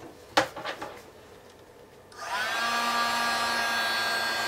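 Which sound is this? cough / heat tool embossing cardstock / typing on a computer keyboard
heat tool embossing cardstock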